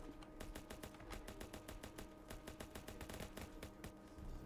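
Rapid machine gun fire in the video game Ancient Warfare 3, a fast even rattle of many shots in quick bursts, fairly faint and distant, with no talking.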